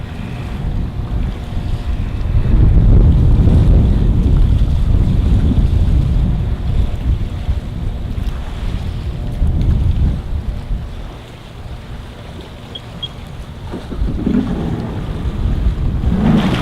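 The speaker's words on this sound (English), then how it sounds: "Once I drift out a little bit, then I can start the engine." A personal watercraft's engine runs on open water near a beach, a loud low rumble mixed with wind buffeting and splashing waves, holding steady and then easing back.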